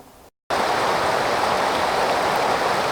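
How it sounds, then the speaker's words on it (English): A small mountain creek flows in a constant close, loud rushing hiss after a brief silent gap, with no other sounds on top. "Beautiful little creek."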